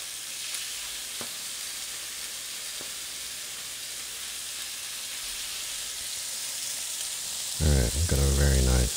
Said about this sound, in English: Alright, I've got a very nice sizzle going.